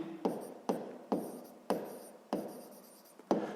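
A pen writes numbers in a notebook: about six quick scratchy strokes, each starting with a soft tap on the paper, close and quiet.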